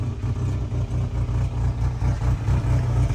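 A high-mileage 1998 Geo Chevy Tracker engine idles steadily, its low, even rumble pulsing in a regular rhythm, close and continuous with no talk.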